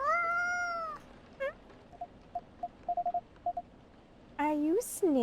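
A cat in the video game Coffee Talk meows in two clear bursts, one at the start and a louder rising pair near the end, with short blippy beeps between them and no talk.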